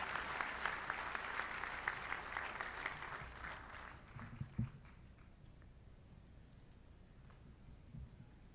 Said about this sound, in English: Join me in applauding our VC panel to kick off the day.